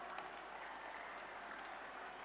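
Brief, faint applause from an audience at an Indonesian financial inclusion event, even steady clapping heard at a distance throughout.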